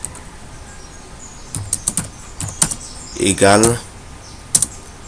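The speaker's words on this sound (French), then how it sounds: "Maintenant, je tape la commande qu'il faut." A command is typed on a computer keyboard, with short bursts of crisp key clicks in quick clusters, separated by pauses, while someone speaks briefly in French.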